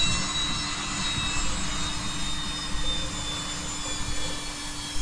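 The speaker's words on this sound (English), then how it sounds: "As you see the torque rising, it starts, and by 40, before it should already, as you can see, the rotors are spinning." AgustaWestland AW109SP helicopter just after engine start with rotors spinning, a steady loud turbine whine with a constant high-pitched tone over a low rumbling drone, unchanging and close throughout.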